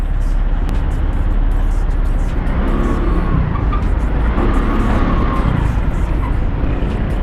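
Dense road traffic rumbles steadily around a moving motorcycle, a broad continuous roar of engines and wind with nearby vehicles passing.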